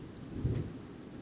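A low, faint rumble of distant thunder from a storm rolls briefly beneath a steady hiss of rain, with no voices.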